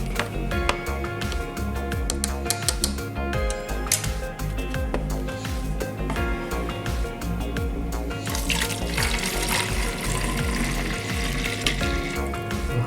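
Used C41 colour film developing chemical is poured out, then the container is rinsed under running tap water, giving a continuous close splashing and gurgling that grows brighter toward the end.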